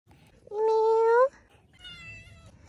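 A pet cat gives a loud, clear meow close by, followed by a second, softer meow, over faint background noise.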